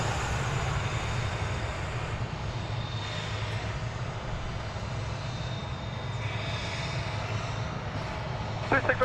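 A Boeing 737-800 airliner taking off at DFW Airport, a steady broad engine roar with a low rumble and a faint whine, heard from a distance, continuous throughout.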